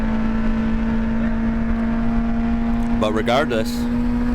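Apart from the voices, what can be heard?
VW GTI hot hatch lapping the Nürburgring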